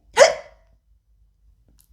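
A single short, sharp vocal hiccup imitation, loud and close, followed by near silence.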